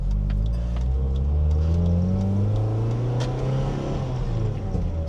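A Mazda NC Miata fitted with a new Gracing shifter accelerates hard, its engine note rising and dropping as it shifts through the gears, loud and steady from inside the car.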